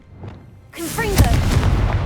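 A fiery Confringo spell goes off in the Hogwarts Legacy video game. A quiet stretch comes first, then a heavy booming blast with rumbling crackle that fills the rest, loud and close.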